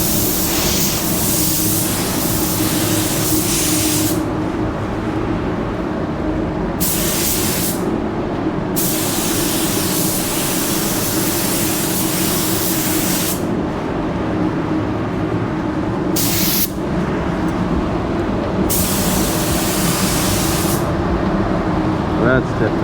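A Kiwami 4 spray gun with a 1.3 tip sprays sealer in a steady, close airy hiss. The hiss runs in several long passes broken by short pauses.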